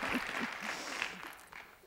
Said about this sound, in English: you should clap for that